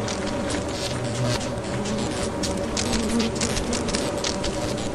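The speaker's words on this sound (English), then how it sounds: "there's a bunch of fucking bees!" A swarm of bees in Lethal Company buzzing loud and dense all around, with a continuous droning hum and flickering wingbeat texture, no voices heard.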